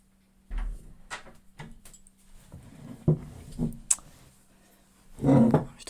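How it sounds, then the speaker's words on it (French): A few short knocks and clicks, then a heavier thud near the end as a door is shut close by, with a low steady hum underneath. "Je vais fermer la porte,"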